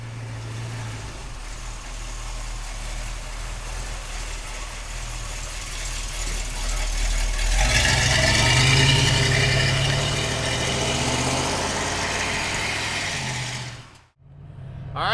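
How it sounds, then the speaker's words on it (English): A restored 1972 Chevrolet pickup truck engine runs with a steady low rumble that swells louder midway, then cuts off abruptly near the end, with no talking. "Let's take a 72 Chevrolet pickup truck for a ride"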